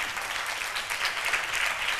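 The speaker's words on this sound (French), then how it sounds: "On l'applaudit les enfants" Children applaud at the Wozo Vacances 2015 launch event, a dense, even wash of many small hands clapping at once, moderately loud and unbroken for its short length.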